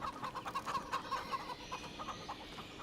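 Chickens cluck in a barn in the farming video game Farm Sim 25, a rapid run of close, repeated clucks that fades into softer scattered calls, with no talking.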